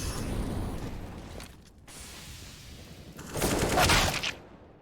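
Rifle fire from a Counter-Strike match, with rapid bursts of shots at moderate distance, fading into a quieter stretch before a louder, denser volley near the end.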